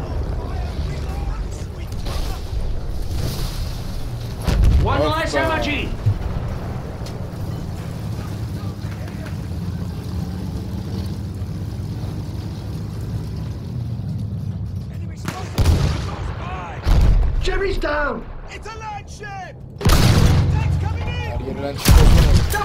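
Battlefield 1 artillery fire on a WWI battlefield: heavy booming blasts strike at irregular intervals over a rumbling, windy din, the loudest impacts landing near the end, with voices shouting in between.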